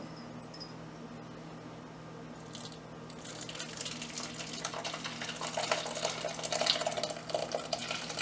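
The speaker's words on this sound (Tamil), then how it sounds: "இந்த திரிஞ்ச பாலை இதில் வடிகட்டி எடுத்துக்க போகிறோம்." Curdled milk is poured and strained through a cotton cloth into a bowl, a soft liquid trickle and splash swelling from faint to a steady close pour over several seconds.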